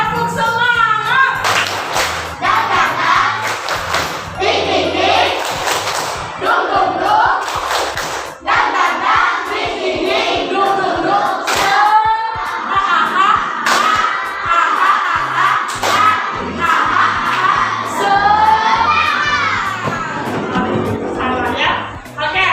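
Elementary schoolchildren perform a rhythmic clapping chant in class, bursts of sharp claps interleaved with loud group chanting voices, repeating in patterned sequences throughout.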